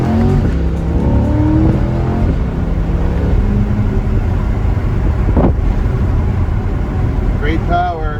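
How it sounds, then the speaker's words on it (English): A 2023 Chevrolet Corvette C8 drives along a country road, its exhaust a loud, steady drone running throughout, with wind buffeting and faint voices mixed in. "Has a very unique exhaust sound, especially when you open up the valves."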